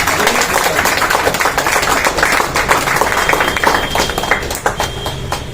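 Audience applause honouring award recipients at a Kannada poetry award ceremony in Dandeli: dense, steady clapping from many hands, loud and continuous throughout with no talk over it.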